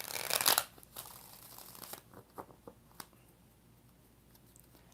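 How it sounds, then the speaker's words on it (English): Tarot cards shuffled by hand, a burst of riffling up close in the first moment followed by quieter scattered taps and flicks of the deck, with no talking. "4 shuffles."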